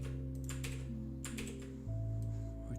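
Rapid, light clicking keystrokes on a computer keyboard in short bursts, heard over a steady tonal hum during a Blender session.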